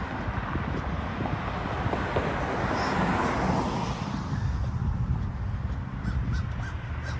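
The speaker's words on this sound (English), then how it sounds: "I hear a crow" A crow caws faintly in the distance over a steady outdoor rumble, likely from passing traffic or an aircraft overhead.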